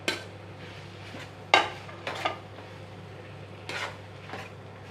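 Vegetables and a protein mix get stirred in a pan, with a few sharp scrapes and clinks of a utensil against metal spaced out among quiet shuffling, faint and close, with no voices.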